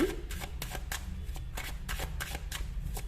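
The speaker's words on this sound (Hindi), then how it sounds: "सो मैं यहां पर निकालने वाली हूं सबसे पहले ये वाले कार्ड" Tarot cards are shuffled by hand, a run of quick, close riffling bursts and soft card slaps repeating every fraction of a second, with no voices.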